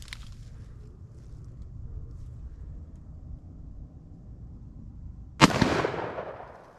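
A single sharp, loud gunshot from a Smith and Wesson 686+ revolver firing a 170 grain bullet, cracking out after a stretch of quiet outdoor ambience and then trailing off in a decaying echo.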